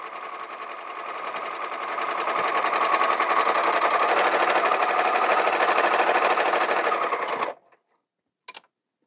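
A Bernina overlocker sews a balanced overlock seam with a smooth, fast, even whir that builds over two seconds, holds steady, then stops abruptly, followed by one brief short burst.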